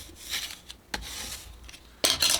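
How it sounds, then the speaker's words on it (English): A spatula scrapes over the cover sheet of a cutting mat laid on printed vinyl, giving short, dry rubbing strokes close up, ending with a louder, longer swipe. "and then I use my spatula"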